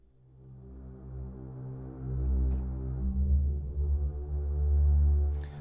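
Soft, muted orchestral strings bowed flautando from composition software samples sustain a gentle low chord for several seconds, swelling slightly midway and near the end, with no talking.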